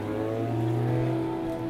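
An Acura Integra Type R race car engine holds a high, steady rev near 9,000 rpm, a loud, sustained tonal drone with strong harmonics and no voices.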